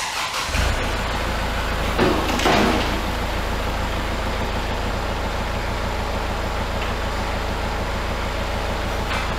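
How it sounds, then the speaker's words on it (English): A Kubota B8200 compact tractor's small diesel engine chugs steadily at close range, with a brief surge in revs early on, then settles into a continuous low idle. "I'm gonna get my tractor out of here"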